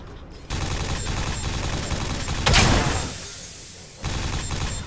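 A grenade blast in Quake 4, with a sharp loud burst near the middle that trails into a fading roar, set against dense, continuous gunfire and combat noise.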